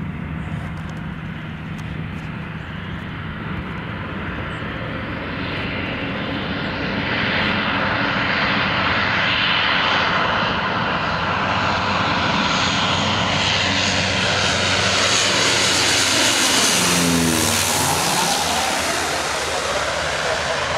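A Canadair CL415 water bomber lands at Marseille Provence: a loud, sustained propeller-engine roar swells as the aircraft nears, then its pitch sweeps downward as it passes and touches down.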